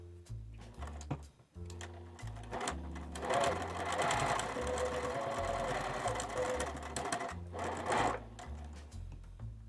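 A sewing machine stitching a vinyl strip, running in a fast steady mechanical chatter for several seconds after a few short starts, fairly close and alone without talk.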